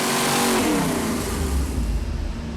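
A 454 big block engine from a Monte Carlo roars on a dyno run, loud and close, holding a steady heavy drone that climbs slightly in pitch before easing off.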